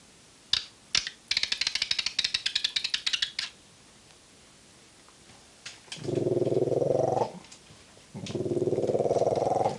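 A dog growls in two sustained, rough bursts, each lasting a second or two, close and fairly loud. Quick rattling clicks come before them.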